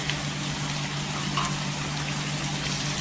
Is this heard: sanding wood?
no